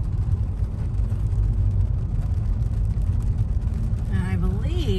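Steady car and traffic rumble while driving through busy downtown Atlanta streets, a continuous engine drone with people talking over it and a brief rising tone near the end.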